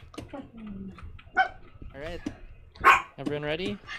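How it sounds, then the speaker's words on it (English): A dog barks and yips a few times in the background while players talk over voice chat during a ghost-hunting game, the barks partly mixed with the speech. "that was my dog."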